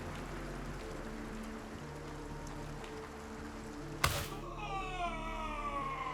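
Steady rain hiss falls throughout in the video game Gray Zone Warfare, under a low droning hum, broken midway by a sharp loud crack followed by ringing, descending tonal sounds.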